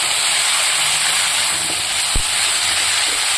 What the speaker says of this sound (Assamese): এইখিনি দি অলপ সময় ভাজি থাকিম